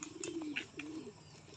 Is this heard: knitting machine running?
no